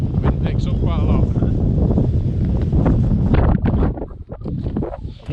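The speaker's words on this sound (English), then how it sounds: "if we step out over here, the wind picks up quite a lot." Strong winter wind in the mountains of Snowdonia roars and buffets the microphone in a loud, continuous rush, easing briefly toward the end before gusting up again.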